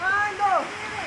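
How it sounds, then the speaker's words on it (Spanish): A waterfall in Minca, Colombia pours with a steady broadband rush where a river runs below, heard up close with a voice over it. "Aquí está la caída, vean, de la cascada. Y allá baja el río."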